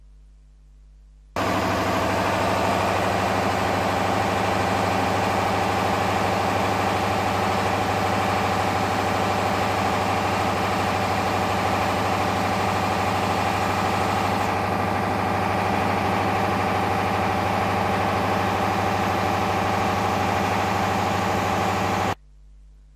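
A diesel engine runs steadily and loudly during a load test for about twenty seconds, a constant low rumble and drone that starts and stops abruptly.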